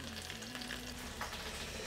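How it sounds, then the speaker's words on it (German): Savoy cabbage rouladen browning in hot oil in a pan, a steady, close sizzle and crackle of frying with no voice. "Und jetzt braten wir die schön von allen Seiten gleichmäßig an."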